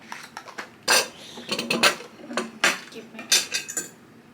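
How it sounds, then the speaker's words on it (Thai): A knife cuts through a strawberry croissant on a plate, giving repeated close scrapes and clinks of metal on ceramic. Soft voices are heard in the background. "อันนี้ด้วยหั่นต่อเลย"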